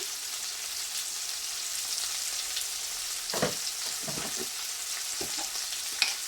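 Onions sauté with salt in a pan for a tin fish curry, a soft continuous sizzle broken by occasional spoon scrapes and knocks against the pan.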